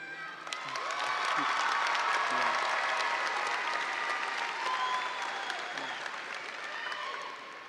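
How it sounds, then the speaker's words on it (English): Sustained applause from a large audience at a high school graduation ceremony honoring the class of 2022, a dense wash of clapping with scattered cheers that swells early and holds steady throughout, no speech over it. "can we get another applause for the class of 2022?"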